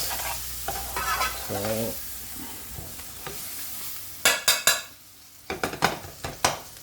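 Tomatoes and chili cooking into softened onions in a pan for fish bhuna, with a steady sizzle under a brief spoken word, then a series of sharp spoon-and-pan stirring scrapes and clatters near the end.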